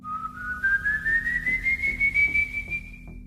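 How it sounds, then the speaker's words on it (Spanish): A single long human whistle rises steadily in pitch over about three seconds, clear and close, with a pulsing tremor, evoking the ascending whistle of the Venezuelan El Silbón legend. "Su presencia se anuncia con un silbido peculiar, que sigue una secuencia ascendente."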